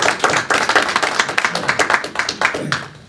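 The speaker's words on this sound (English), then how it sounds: "Give old Jerry a round of applause" A lecture audience applauds a guest speaker at a talk about Vietnam, dense steady clapping from many hands filling the room, fairly close and sustained for several seconds before thinning out.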